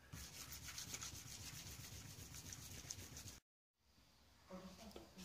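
A meat cleaver blade being hand-sanded with 2000 grit sandpaper makes rapid, rhythmic rubbing strokes close up, stopping abruptly into a short silence before quieter scraping resumes.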